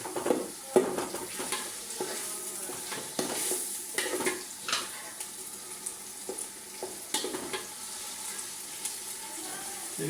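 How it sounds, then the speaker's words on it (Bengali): Ginger tossed into a hot frying pan and stirred, with a continuous sizzle broken by repeated scraping and clinking stir strokes at an uneven rhythm, close and moderately loud. "বন্ধুরা এখন আদা দিয়ে দিতেছে"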